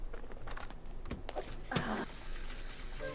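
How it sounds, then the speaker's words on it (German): In The Sims 4, a character takes a cold shower: water suddenly gushes on after a few short clicks and splashes, then runs steadily and close. "Kalt duschen, oh, sie geht ganz kalt duschen."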